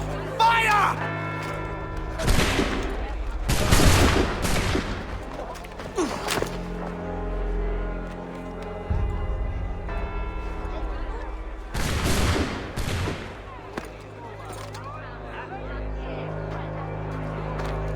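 Several loud, booming musket volleys from Assassin's Creed III ring out in separate bursts, with voices speaking between the shots.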